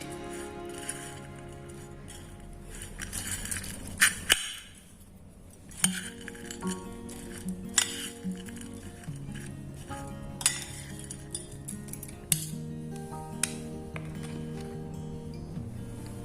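A spoon stirs vegetable bhel made from leftover khichdi with sauce in a bowl, giving steady close scraping and repeated sharp metal-on-dish clinks throughout, with a brief pause partway through.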